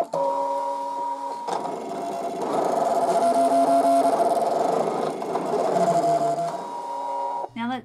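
A motorized cutting machine cuts a fabric gingerbread-man shape, whirring and humming steadily with shifting mechanical tones as the carriage moves, close and continuous for several seconds.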